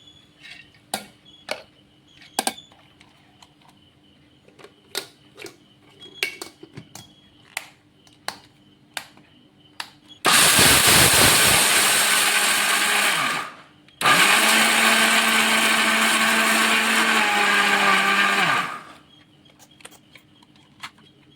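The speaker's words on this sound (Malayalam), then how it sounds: "ഇത് നമ്മൾക്ക് കുറേശ്ശെയായിട്ട് മിക്സിൻ്റെ ജാറിലോട്ട് ഇട്ട് കൊടുക്കാം" A mixer grinder jar grinding washed rice runs in two loud, close, roaring bursts of several seconds each, with a short pause between them, preceded by scattered clicks and taps as the jar is loaded.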